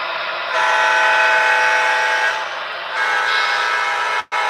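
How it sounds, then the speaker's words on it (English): An N scale model train cleaning car runs along the track with a steady close whirring hum that drops briefly midway before continuing, then cuts out sharply near the end. "There's the N scale cleaning car."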